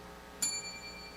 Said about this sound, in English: You will know that the word that you spell is incorrect when you hear the sound of the bell.